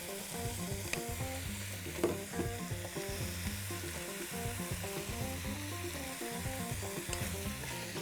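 Diced pork tenderloin fries in oil in a pan, a quiet, steady sizzle that runs throughout beneath a low, tonal background.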